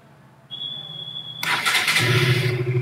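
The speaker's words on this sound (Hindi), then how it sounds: "तो ये हमारी बाइक होगी ऑन।" A KTM Duke motorcycle is started up during a battery charging check: a steady electronic whine sounds first, then the starter cranks and the engine catches into a loud, rough idle close by, with no talking.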